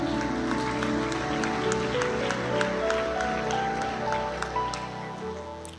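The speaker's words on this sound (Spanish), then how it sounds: "¿Le puede dar un fuerte aplauso a Dios?" A congregation applauding for God at a Christian conference plenary, a continuous wash of clapping over a sustained musical hum that fades toward the end.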